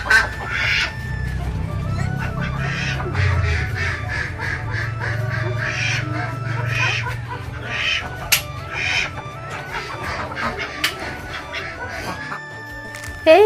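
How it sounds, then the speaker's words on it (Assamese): Ducks quack in repeated bursts alongside clucking chickens in a rural village yard, a busy, close flock chorus that carries on throughout, with occasional faint voices in the background. "এইফালে হাঁহ"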